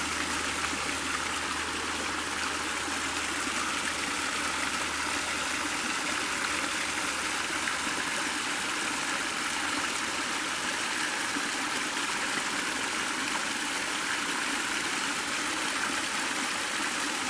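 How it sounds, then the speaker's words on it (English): A small cascade of spring water spills over an edge into a woodland stream in Monte Sano State Park, Alabama, giving a continuous, even splashing hiss that runs steadily and close throughout with no talking. "Beautiful little cascade here."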